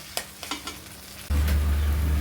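Taro greens are stir-fried with spices until dry in a pan. A few scraping stirs are followed by a sudden loud, continuous sizzle with a low hum beneath, close up.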